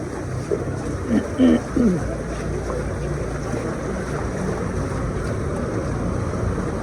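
Floodwater rushes loudly and continuously through a street in the Maitidevi area of Kathmandu, a broad roaring wash with wind buffeting the microphone; a few short voice fragments come through early on over the torrent.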